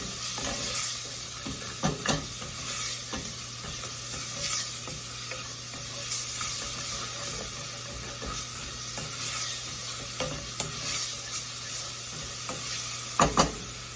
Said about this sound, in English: We'll let this saute for a minute or two.